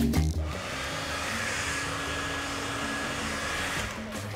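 A Remington Curl & Straight Confidence hair dryer blows steadily on high speed with medium heat, a constant airy roar with a faint high whine, running alone throughout.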